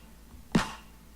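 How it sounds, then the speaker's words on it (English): A doorbell set to a snare-drum sound in the building game Scrap Mechanic gives a single faint, quick drum hit with a short decay amid quiet background. "this is a doorbell, and since I'm a percussionist I set it to snare drum"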